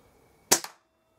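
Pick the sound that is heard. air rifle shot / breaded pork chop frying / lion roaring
air rifle shot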